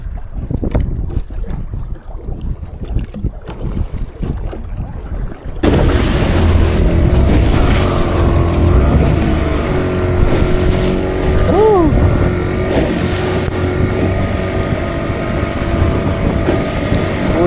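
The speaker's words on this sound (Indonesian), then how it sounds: "Hujan, gelombang, angin." Strong wind and rough sea waves heard from a fishing boat out jigging alone. A quieter, patchy stretch gives way after about five seconds to a loud, continuous roar of wind and water with an engine hum beneath it.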